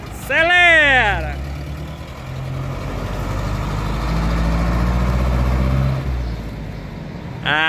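A Mercedes-Benz 608 truck engine drones steadily under load on the BR-050 highway, a deep continuous rumble that swells and eases, with a short horn-like tone near the start and again at the end.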